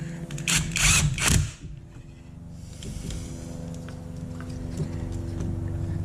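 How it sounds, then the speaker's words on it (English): A power tool runs up in short loud bursts while driving Torx 25 screws home on an Opel Adam during a basic service, then drops to a steady low mechanical hum for the rest of the moment. "we'll tighten down the Torx"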